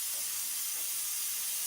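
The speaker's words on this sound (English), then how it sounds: "Nice smooth spray." An airbrush at around 18 to 20 psi sprays paint onto an Accurascale Class 31 model locomotive, making a soft, steady, close hiss that runs evenly for under two seconds without talk.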